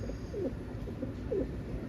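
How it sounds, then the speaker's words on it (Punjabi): Pigeons kept in a netted enclosure coo softly, with two brief low coos spaced about a second apart. They sound faint and somewhat distant over a steady background hiss. "ਕਬੂਤਰ ਠੀਕ ਆ ਤੰਦਰੁਸਤ ਨੇ"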